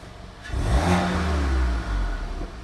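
A Volkswagen GTI MK7 with Cobb Stage 2 tune and DSG flash in sport mode accelerates on a test drive, its engine note rising in a loud, close surge with a short dip before pulling again.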